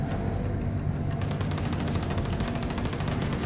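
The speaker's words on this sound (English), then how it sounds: "Someone's shooting like crazy." Dense, rapid automatic gunfire rattles continuously in Wolfenstein II, loud and close, with bursts merging into a steady stream of shots and no voices.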